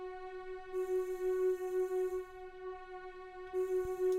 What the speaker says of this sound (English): I got this warm string right here.